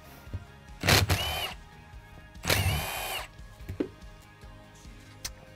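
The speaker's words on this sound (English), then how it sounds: "I'm going to take these two bolts off." Power tool removing two bolts during an oil pump replacement: two bursts of whirring, each about a second long, close by, with faint clicks and handling noises between them.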